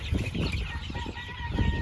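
Chickens cluck at a poultry farm with turkeys nearby, a dense close chorus of clucking and faint crowing that keeps going throughout, with no talk.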